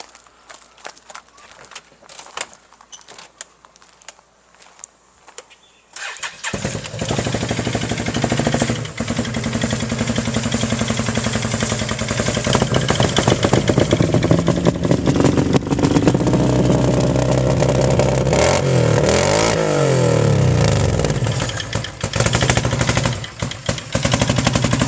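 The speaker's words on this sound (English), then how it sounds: "you put the cam in and it sounds just like a hot rod car, sort of" A Can-Am Outlander ATV fitted with an aftermarket cam, heard quietly at first and then firing up loud and close, with a choppy, lumpy idle and rising revs toward the end.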